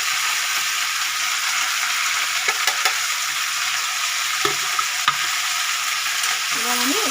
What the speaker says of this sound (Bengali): এবার আমি এটাকে একটু মশলা দিয়ে ভাজবো